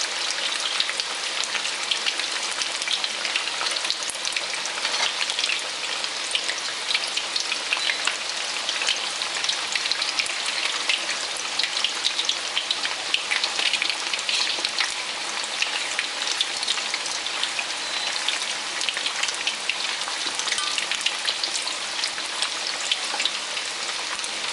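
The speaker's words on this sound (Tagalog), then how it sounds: "Iprito lang natin siya ng mga 5 to 7 minutes" Sweet and spicy chicken pieces frying in hot oil, a dense, continuous crackling sizzle that holds steady and close throughout with no voices.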